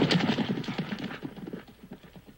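Horse hooves clip-clopping inside a courtroom in the animated Lucky Luke story: a rapid, close run of hoofbeats that is loud at first and then eases off, with no one talking.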